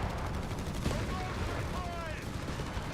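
Gunfire and explosions from a World War II battle in the strategy game Company of Heroes 3 form a dense, continuous rumble of shots, fairly quiet and steady for the whole stretch.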